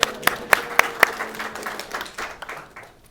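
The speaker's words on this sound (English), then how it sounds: "So let's have a round of applause." A small audience at a night-sky imaging talk gives a brief round of applause, starting with a few loud, distinct claps at a steady beat that then thin into scattered, fading clapping.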